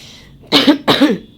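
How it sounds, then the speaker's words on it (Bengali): Two harsh coughs in quick succession, close and loud, with a short pause between them. "আমার খুব কাশি হচ্ছে বন্ধুরা"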